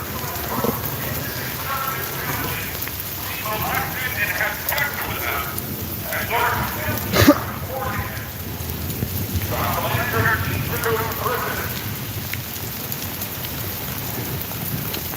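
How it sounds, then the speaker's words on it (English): Steady rain falls outdoors at a church rally in Virginia Beach, a continuous moderate hiss with a brief sharp crackle midway, while people talk over it in the background. "Thank you, Lord Jesus, for giving us rain today."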